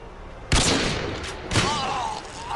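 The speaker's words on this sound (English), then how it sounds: "I'm shooting him!" Gunfire in the survival game Rust: two sharp, loud bursts about a second apart, each trailing off into a rough, sustained crackle with faint voices in the background.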